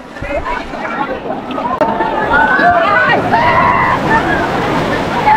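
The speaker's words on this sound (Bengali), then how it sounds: "কি ঢেউ দেখো, ও রীতিমতো আমাকে ভাসিয়ে নিয়ে চলে যাচ্ছে" Sea waves surge and slosh steadily around the listener at a beach in Digha, close and loud, with excited voices calling out over the rushing water.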